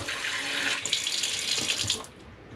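Steady rush of running water from a kitchen faucet in an Airstream Flying Cloud 23FB trailer, fairly close and continuous, cutting off near the end.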